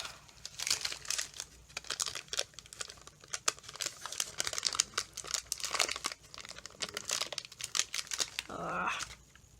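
A stamp peeled slowly off a candle during nautical candle stamping, making a close, steady crinkling and tearing rustle that runs in bursts with no talk.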